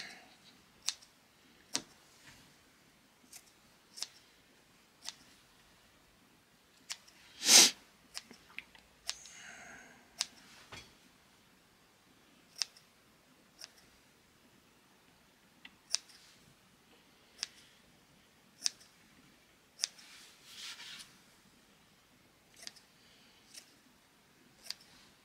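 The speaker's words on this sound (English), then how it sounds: "with a sharp pair of scissors just give it a little haircut." Sharp scissors trimming the edge of a custom carpet, quiet scattered snips and clicks at irregular intervals against a near-silent background.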